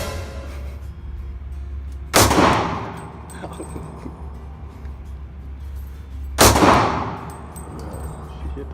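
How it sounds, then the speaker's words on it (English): A SIG .40 pistol fires twice at a shooting range, two sharp close reports about four seconds apart with a decaying ring after each, over steady background hum. "I'm gonna shoot my SIG first"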